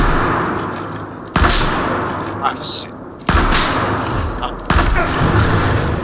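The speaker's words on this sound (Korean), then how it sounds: "폭탄 터뜨려서 잡네" Battlefield 4 combat audio: a blast goes off and several loud, sharp gunfire bursts crack in close succession, each decaying into a rumbling tail, while a player mutters briefly.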